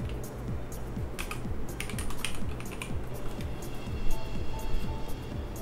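Typing on a computer keyboard while entering a terminal command to install a community server in Nextcloud, a steady run of close, rapid key clicks with a few faint background noises.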